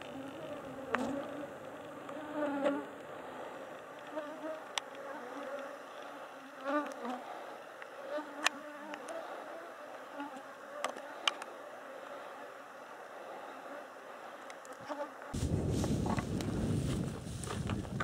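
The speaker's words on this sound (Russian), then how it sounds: "Как только нету ветра, туча комариков меня атакует." A cloud of mosquitoes swarming around a hiker on a windless trek, thin high whining buzzes drifting close and away over quiet outdoor ambience, ending with a brief burst of wind or rustling noise.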